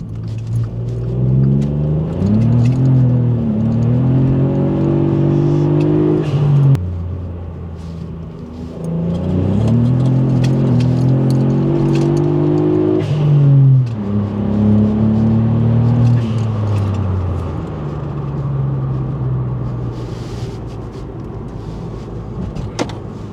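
A VW Up GTI drives and accelerates, its engine rumbling loud and steady with rising revs across two long pulls, a short dip between them and a gentler run toward the end, with no voices.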